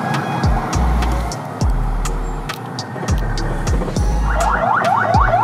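A vehicle convoy passing on a road in Lagos, with repeated low whooshes of vehicles going by close, a steady engine drone and a wailing siren-like warble rising near the end.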